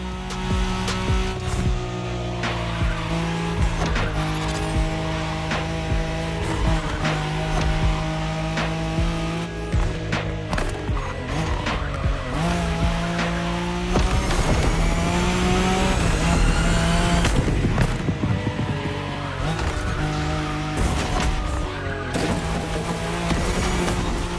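Race cars speed through The Crew Motor Fest racing game, with engines revving loudly and shifting pitch over and over and tires squealing, all of it continuous and close.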